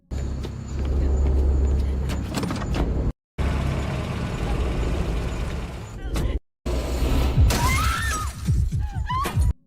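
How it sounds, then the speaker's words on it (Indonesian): Car window glass smashed during a violent attack in a horror-thriller film scene, a sharp shattering crash amid loud dramatic movie sound and rumbling, with cuts of near-silence between bursts. "Man memecahkan kaca mobil Jessica"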